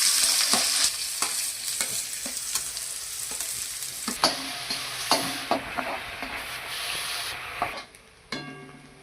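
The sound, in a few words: chopped onion frying in oil for pav bhaji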